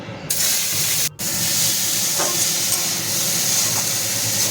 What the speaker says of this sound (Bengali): আবারও একটু তেল দিয়ে আমি চিংড়ি মাছগুলো ভেজে নিচ্ছি।